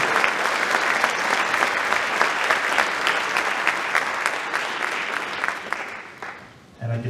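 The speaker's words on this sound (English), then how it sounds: "how about a great round of applause for our girl on the acapella" A school audience at the Farmingdale High School winter concert claps steadily after a girl's a cappella performance. The dense, sustained applause fills the room for about seven seconds, then fades out abruptly near the end.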